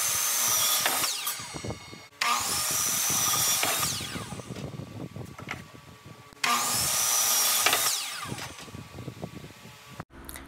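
Power saw cutting wooden boards to length for a simple desk, in two long whining passes with a drop to near quiet between them and a brief clatter at the end, close and loud.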